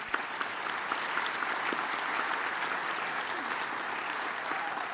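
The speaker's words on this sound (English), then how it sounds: "please just give an absolute warm round of applause to the panelists" Sustained audience applause for the panelists at a health technology summit, a dense, steady wash of many hands clapping throughout with no voices standing out.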